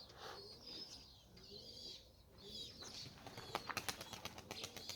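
Wings clap and flutter in a quick run of sharp beats as a pigeon takes off, with birds cooing softly around it.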